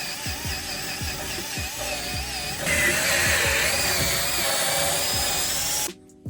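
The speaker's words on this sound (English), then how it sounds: "We started by drilling out the bushing, and then we put it on the vise, and then drilled it out." A power drill bores out a differential bushing on a Datsun 280Z, a continuous whining drone with rhythmic low knocks, steady and loud, rising in pitch and intensity midway before cutting off near the end.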